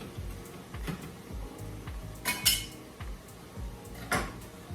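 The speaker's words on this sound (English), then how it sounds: "And now stir." A spoon stirs turkey in a pot, scraping and clinking against the sides in a repeated rhythm, with two brighter metallic knocks among the strokes.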